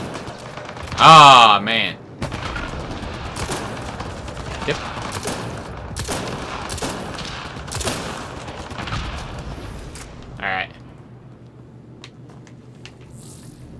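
Gunfire in Mass Effect Andromeda multiplayer at Firebase Zero: a loud burst of rapid shots opens, then scattered sharper cracks and thumps follow under ongoing talk, with another short burst near the end.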